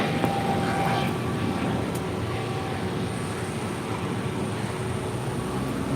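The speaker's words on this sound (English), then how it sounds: "This is Spirit 631 taking off to Atlanta on an A320 Neo." A Spirit Airbus A320neo takes off from LAX for Atlanta, its engines giving a loud, continuous broadband roar that stays steady and dense across the whole stretch, with a faint high tone riding above.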